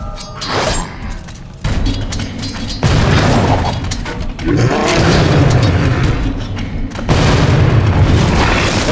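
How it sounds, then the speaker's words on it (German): Loud, close TNT explosions in the video game The Suffering go off in quick succession, several deep booming blasts with rumbling debris between them. "Und die Explosionen gehen munter weiter."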